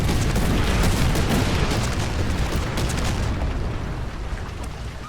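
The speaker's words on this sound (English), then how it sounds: "he's going to back up out of the multiple artillery strikes that have been called in on his" Artillery strikes explode in the War Thunder combat game, a loud continuous rumbling roar of overlapping blasts that fades slightly toward the end, with no voices.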